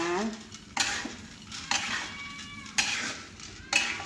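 Coffee beans stirred in a pan during roasting, a few distinct scraping, clattering strokes at regular intervals with a soft sizzle between them, close and clear.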